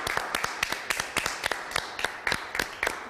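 Audience applause for a wedding photography bootcamp, heard as a short run of evenly spaced, crisp claps.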